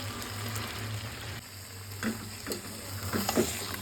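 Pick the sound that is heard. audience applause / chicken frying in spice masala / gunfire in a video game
chicken frying in spice masala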